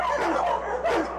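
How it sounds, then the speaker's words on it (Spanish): A mixed-breed dog barks twice in quick succession, close and fairly loud, with short yelping, slightly whiny tones and no talk over it. "es un criollo que ladra con acento mexicano"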